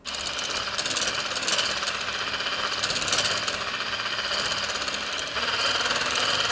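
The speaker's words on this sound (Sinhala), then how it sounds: "දැන් අපි හොඳට කූල් කරගත්ත විපින් ක්‍රීම් එක වික්ස් කරගන්න යන්නේ" An electric beater whips chilled whipping cream for a jackfruit mousse, giving a continuous loud, buzzing whir that runs unbroken throughout at close range.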